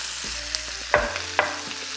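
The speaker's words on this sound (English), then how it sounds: "we're gonna let this saute for about 5 minutes" Onions and sliced mushrooms sauté in a hot pan with a continuous close sizzle, punctuated by a couple of sharp utensil knocks and stirring sounds, no voices.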